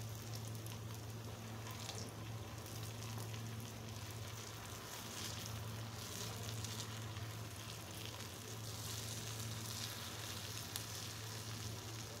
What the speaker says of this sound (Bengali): এখন আমি এটাকেও সুন্দর মতো করে ভেজে নেব।